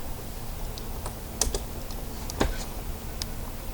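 Clicks of typing on a computer keyboard, a few soft scattered keystrokes against a steady low background hum, heard alone without speech.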